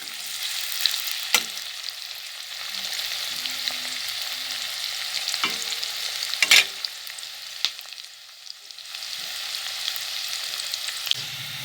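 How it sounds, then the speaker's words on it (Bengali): Onions fry in a pan for a chicken curry, giving a steady moderate sizzle broken by periodic scraping stirs and a few sharp clacks of utensil against the pan. "এভাবে 1 মিনিট মতো পেঁয়াজটাকে লাল লাল করে ভাজতে হবে।"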